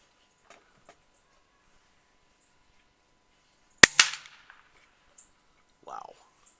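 Single suppressed .22 LR subsonic shot of a 45 grain CCI hollow point, one sharp, fairly loud crack with a short decay in an otherwise quiet outdoor setting, followed by a few faint clicks.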